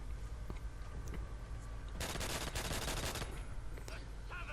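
Automatic gunfire in a free-for-all shooter match, a dense rapid burst lasting about a second amid a busy, faint background of distant shots and game noise.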